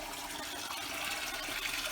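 Water flowing through the three-stage Lotus Clear Pond 18 filter at a koi pond, a steady rushing, splashing hiss with no pauses, close and fairly loud, no voices.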